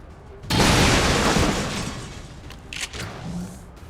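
A heavy shotgun blast in XCOM 2 erupts into a loud, broad boom that blows out the floor, followed by crumbling debris and a few smaller impacts fading over several seconds.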